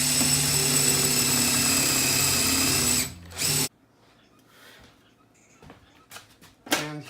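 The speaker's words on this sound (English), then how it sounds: "basically I need to drill a hole in here for the electrical circuit" A power drill bores a hole in a kitchen island for an electrical outlet, a loud steady whirring whine that stops abruptly after about three seconds, followed by quiet handling knocks and clatter.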